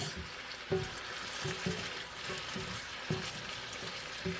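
Catfish frying in a pan on medium heat, a quiet steady sizzle with soft crackles and a few light knocks.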